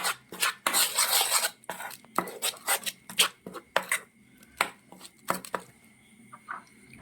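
A utensil scrapes and clinks inside a bowl as a beetroot hair pack is mixed with aloe vera gel, making repeated short, irregular knocks and rasping strokes at close range, with no voices.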